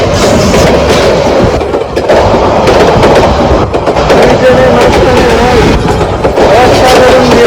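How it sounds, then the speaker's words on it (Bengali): A train pulls into a station, its steady loud rumble and rail clatter filling the whole stretch, with a few faint voices of people on the platform mixed into the noise. "আমাদের অপেক্ষিত ট্রেন চলে আসছে আমাদের মাঝে"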